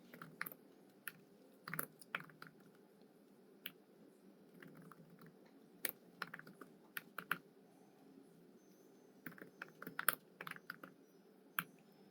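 Fast, irregular typing on a computer keyboard while working in Excel and Tableau, with crisp clustered key clicks and occasional louder strokes at a close, quiet distance, no voices.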